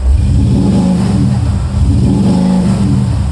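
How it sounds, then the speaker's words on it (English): Two loud, deep exhaust revs close by from a Maserati Levante, each rising and falling in a throaty surge over a rumbling engine. "that loud exhaust and the deep."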